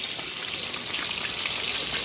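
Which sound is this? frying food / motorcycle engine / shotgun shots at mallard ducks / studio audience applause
frying food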